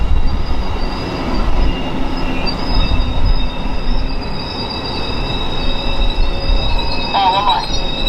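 A passing train's railcars rumble steadily at close range, with sustained high-pitched wheel squeal running throughout and a wavering screech rising near the end; no talking is present.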